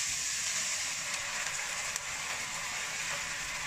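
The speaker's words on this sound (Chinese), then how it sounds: "现在我们把红酒全部加入" Red wine poured over browned minced beef for a Bolognese ragù sets off a loud, steady broadband sizzle in the pan that holds for several seconds, with only a faint click partway through and no talking.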